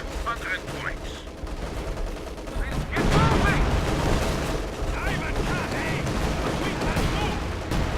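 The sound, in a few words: artillery barrage in Company of Heroes 2 video game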